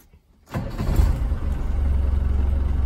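A 1990 Land Rover Defender 200tdi diesel engine turns over and catches after a short silence, then settles into a steady, low, pulsing idle heard up close.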